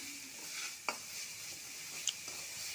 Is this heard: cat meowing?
no